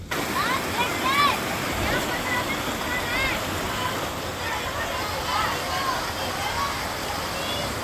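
Waterfall near Chauras in Himachal Pradesh, a steady broadband rushing roar of falling water filling the whole clip while someone talks over it.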